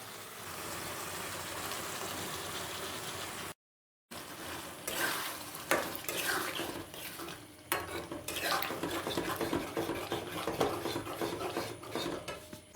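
Spoon stirring yogurt into beef in a kadai over a low flame, steady scraping and sizzling strokes that pause briefly, then continue with louder clinks against the pan.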